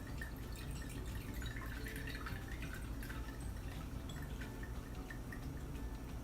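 White distilled vinegar poured into a measuring cup, a steady close liquid trickle and splash running continuously for several seconds with no talk.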